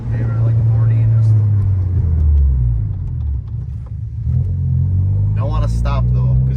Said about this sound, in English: Just slam on your brakes to like 10 miles per hour.